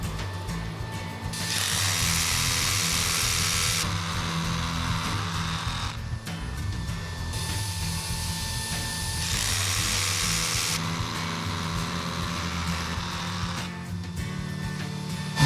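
Loud, sustained DeWALT DWH161N dust extractor paired with a rotary hammer drilling in repeated bursts of several seconds each, the steady vacuum hum running underneath throughout.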